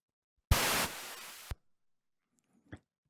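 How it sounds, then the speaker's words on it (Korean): A one-second burst of white noise made from eight million random numpy values, bright and broadband, starting and stopping abruptly, followed by quiet with a faint click. "numpy 랜덤 함수를 이용해서 800만 개를 그냥 랜덤 값으로 한번 찍어 보았습니다"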